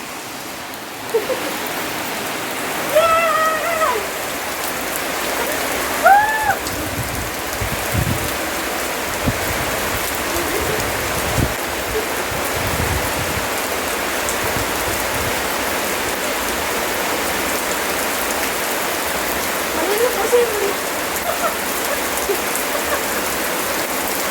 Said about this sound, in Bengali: এদিকে জোরে বৃষ্টি এসছে